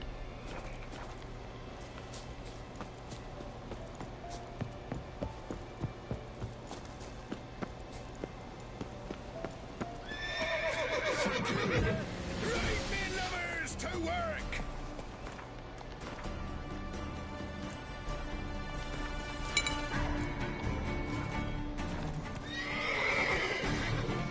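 A horse in the video game Deathmarch: rhythmic hoofbeats clop along steadily, then loud neighs and whinnies rise over galloping, with brief quieter stretches between bursts.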